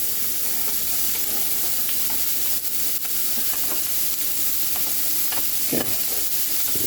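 Onions frying in a pan, a steady loud sizzle with occasional scraping stir sounds as they are pushed around, no voices.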